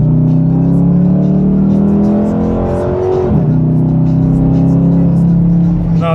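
A 2013 Dodge Challenger R/T accelerating on the highway at night, its engine droning loud and steady from inside the cabin, the pitch climbing and dipping briefly mid-run before settling into a sustained pull.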